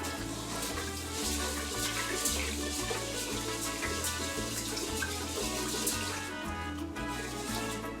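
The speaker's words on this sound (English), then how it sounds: "I'm taking our rice here, and we're gonna rinse it out." Rice is rinsed under a running kitchen tap, giving a steady close rush of water with soft sloshing, alone without talk, over a faint background musical beat.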